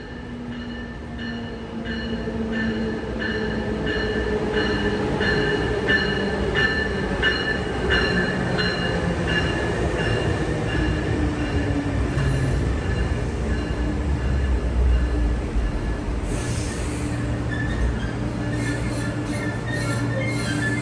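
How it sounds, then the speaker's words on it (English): An Amtrak Acela train set rounds a curve and arrives, its wheels clicking rhythmically and squealing faintly over a steady rolling rumble, close and sustained throughout. "Acela 2126 rounded the north curve for what has to be the most beautiful arrival I've ever seen."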